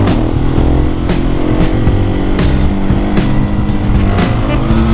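A motorcycle ridden downhill on a road while doing wheelies gives a loud, close, continuous engine roar with revving pitch changes and wind buffeting throughout.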